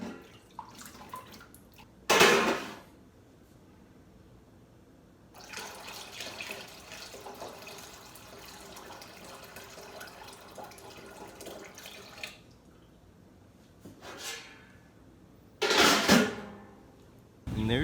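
Water running from a tap into a container as it fills, a hissing flow heard in bursts with pauses and louder surges, mixed with brief handling noises.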